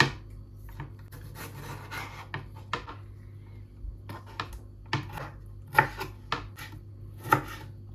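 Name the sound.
knife chopping a tomato into small pieces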